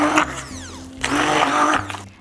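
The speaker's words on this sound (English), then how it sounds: "Making the sweet potatoes into puree is super easy and fast with my handheld immersion blender." Handheld immersion blender pureeing peeled, oven-baked sweet potatoes: a loud whirring motor that rises and falls in pitch over a few short bursts, close to the mic, with no talk.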